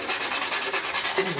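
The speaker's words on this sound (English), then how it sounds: "Very good for sanding foam." Foam being sanded with a slot-sanding tool made from a wooden dowel, a steady raspy rubbing with a quick back-and-forth rhythm of roughly ten strokes, close and alone.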